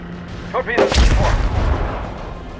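Naval artillery fire in the World of Warships video game: a sharp, heavy boom bursts out after a brief voice-like call, then a loud rumbling roar and decay linger for over a second.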